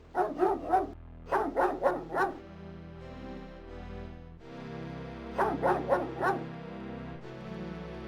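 Dog barking in the adventure game King's Quest VII: two bursts of four quick yapping barks, then a third burst after a pause, with a steady musical background underneath.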